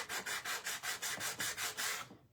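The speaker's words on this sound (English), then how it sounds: "So this sanding block I got from the Dollar Tree." A Dollar Tree sanding block is rubbed back and forth over paper in a papercraft project, making about ten quick, even scratchy strokes close up before stopping.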